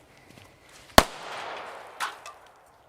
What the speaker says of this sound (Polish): pokażę wam, jak nie należy odpalać fajerwerków